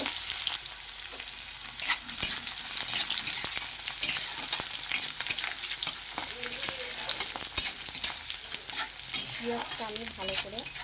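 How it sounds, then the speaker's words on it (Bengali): Chopped onion and slit green chilli fry in oil with bay leaf and five-spice seasoning, a continuous loud sizzle broken by repeated sharp clicks of a spatula stirring against the pan. "পেঁয়াজটা আমি ভালো করে ভাজা ভাজা করে নেব।"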